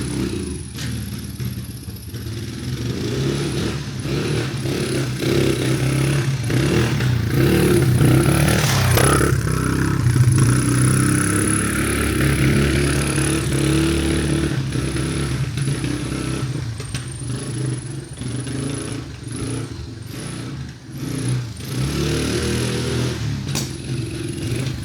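Old rescued farm motorbike running rough while ridden, its engine droning steadily and close with clattering and rattling throughout, swelling slightly in the middle.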